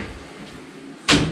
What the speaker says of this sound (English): It has these sliding doors as well.